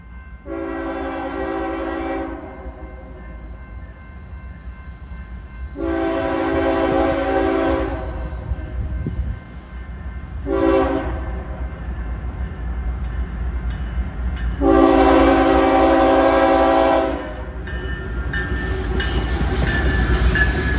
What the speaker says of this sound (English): The next train is an empty sand train.